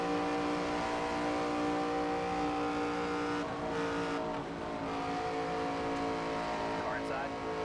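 Race car engines roar steadily in the NASCAR 25 video game, a dense wall of droning motor noise packed close together, heard under a commentator's continuous talk.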